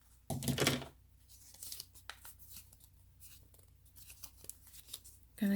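Scissors snip through the tag on a new journal, a brief close crunchy cut followed by faint rustling and small handling clicks.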